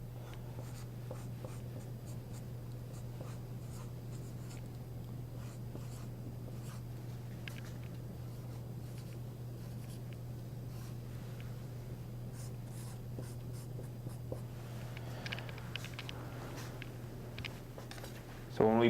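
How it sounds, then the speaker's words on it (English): Pen or pencil writing by hand on paper, soft repeated scratching strokes over a steady low hum, followed near the end by a few faint taps that could be calculator keys. "Let me go ahead and write that up and do this on my calculator."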